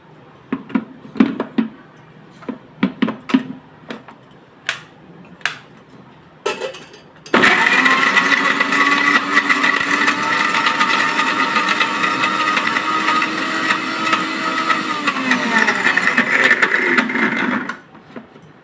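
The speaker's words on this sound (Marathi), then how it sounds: "आता आपण हे मिक्सरला फिरवून घेऊया।" A kitchen mixer grinder blends a fasting smoothie flavoured with cardamom powder, running as one loud, steady whirring drone for about ten seconds after a few clicks and knocks, then cutting off abruptly.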